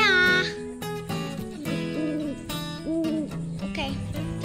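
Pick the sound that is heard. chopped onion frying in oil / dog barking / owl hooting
owl hooting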